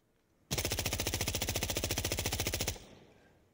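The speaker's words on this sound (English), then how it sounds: "So that's a regular reload" A rifle in Insurgency Sandstorm fires a loud, fast burst of about two dozen evenly spaced shots. The burst cuts off abruptly into a short fading tail.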